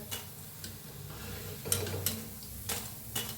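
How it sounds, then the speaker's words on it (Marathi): Cabbage manchurian balls deep-frying in hot oil give a soft, steady crackle with scattered sharp pops and ticks, close by and fairly quiet, with no talk. "बघू शकता आवाज कसा यायला लागलाय म्हणजे तळलेला आहे"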